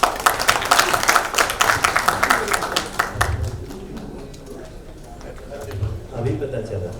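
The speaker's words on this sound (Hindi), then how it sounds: "इसके लिए आप लोग एक जोरदार ताली।" An audience claps for Bhojpuri actors at a Chaupal Bhojpuri OTT event, with dense, lively applause for about three seconds that thins out and stops, and people talking afterward.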